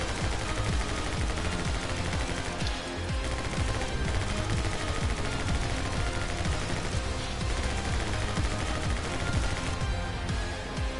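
Rapid video game gunfire rattles on continuously in a shooter level, dense and loud throughout with a few brief heavier bursts, no voice over it.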